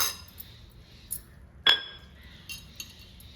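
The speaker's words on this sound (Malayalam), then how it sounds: "ഉപ്പ് പോകരുത് നന്നായിട്ടൊന്ന് മിക്സ് ചെയ്യുക" A spoon mixes salted potato and egg dosa batter in a bowl, giving a few light clinks against the bowl's side with one sharper ringing tap near the middle.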